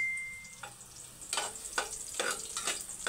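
Ingredients for chicken tinola sauté and brown in a pan, a quiet sizzle with rhythmic stirring scrapes that start about a third of the way in and follow a brief tone.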